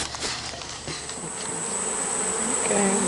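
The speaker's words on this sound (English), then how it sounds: "I'm about to put all these bees in a hive" A swarm of honeybees taken from a roof space in League City hums nearby, a dense continuous buzz that swells louder toward the end, with no talk.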